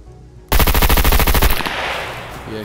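Rapid burst of AK rifle fire in the survival game Scum, a loud, fast rattling volley of about a dozen shots lasting around a second, trailing into a reverberant decay.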